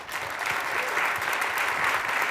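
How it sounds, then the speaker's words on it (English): An audience at a humor event on Israel and Palestine claps steadily, a dense wash of applause holding at an even level for the whole stretch with no pauses. "A special round of applause, ladies and gentlemen, for them"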